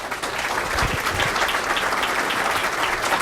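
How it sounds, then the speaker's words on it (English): An audience at a live defense recruitment and readiness panel event gives a round of applause, with dense, steady clapping filling the room throughout at a fairly loud level. "Can we have a round of applause, please?"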